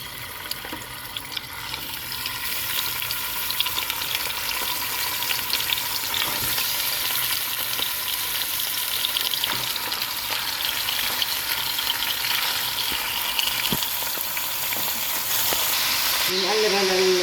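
Chicken pieces sizzle steadily in a little corn oil in a cooking pot, a loud, close, continuous hiss with occasional stirring knocks and faint voices underneath.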